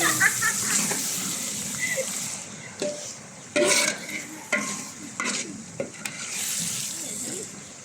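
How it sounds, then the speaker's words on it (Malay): Chicken stirred and fried over a high flame in a pan during a cooking class, steady sizzling with intermittent louder scrapes and clatters of the spatula, close and clear with no talk. "kita kecutkan ayam sebentar baru kita masuk air"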